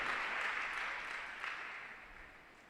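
A church congregation at a Krupa Ministries sermon in Guntur claps together at the preacher's prompt, a soft, somewhat distant wash of applause that fades gradually over a few seconds.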